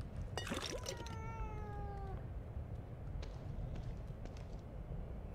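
A cat in the horror game The Evil Within 2 gives a clear, drawn-out meow with a falling pitch, heard once near the start over a quiet, low ambient hum.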